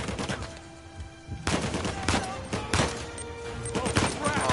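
Gunfire in the video game Uncharted 4: sharp shots crack out irregularly, a couple of heavy bursts standing out among smaller pops and a busy combat backdrop, fairly close and loud.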